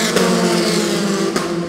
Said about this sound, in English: after turn 17, you are flat out on the throttle